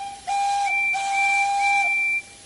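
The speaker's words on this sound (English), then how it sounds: "Listen to that happy whistle." Steam engine whistle from a Thomas the Tank Engine train video game: a bright, sustained two-tone hoot in two long blasts over a steady hiss, loud and alone.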